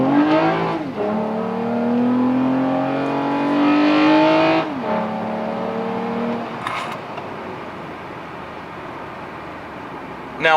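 Toyota Camry TRD accelerating up a highway on-ramp, engine revving through rising gear pulls with a clear drop at each shift, heard from inside the car, then settling into a steadier cruising drone.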